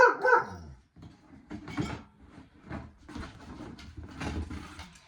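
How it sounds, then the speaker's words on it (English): A dog barks indoors in a home, a sharp loud bark at the start followed by a series of softer, muffled barks and yips at moderate distance. "What are you barking for? No barking."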